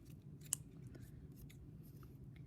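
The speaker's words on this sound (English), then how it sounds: "now we take our scissors and really practice your scissor skills" Scissors snip through layers of folded paper for a snowflake craft, producing faint, close crunching cuts, a few separate snips with one sharper click, over quiet room hum.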